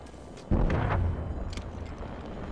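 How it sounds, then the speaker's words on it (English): A frag grenade in Apex Legends detonates with one sudden heavy blast that booms and rumbles for about half a second, then fades into scattered echoes and a lower background din. "Frag grenade, yeah."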